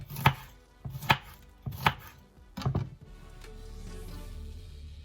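A knife chops vegetables for guacamole on a board, four sharp, evenly spaced thuds close by, followed by quieter handling and a low background hum.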